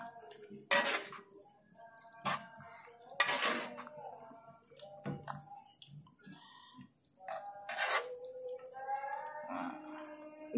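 Instant noodles boiled with mung beans are stirred in a bowl, a utensil clinking and scraping against the dish in several sharp bursts amid soft wet sloshing, close by, with a voice speaking at times.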